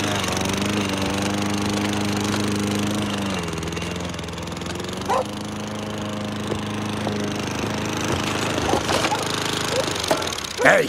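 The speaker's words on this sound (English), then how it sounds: "Have you completely lost it mowing at this hour?" A lawn mower runs at night with a steady droning engine hum and shifting pitch, close by, with a few scraping knocks and a sharp clatter near the end.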